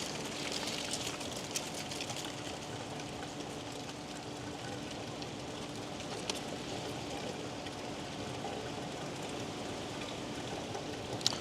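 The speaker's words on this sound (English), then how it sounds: "So I can hear the water going in there." Continuous rushing, hissing water pouring steadily into an RV waste tank, an even spattering noise with no talking over it.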